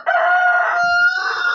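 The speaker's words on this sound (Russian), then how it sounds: "В 10 кукарекал, сейчас 11:00, он опять кукарекает." A rooster crows loud and close in one long, drawn-out cock-a-doodle-doo, its call wavering as it stretches to the end, with no voices over it.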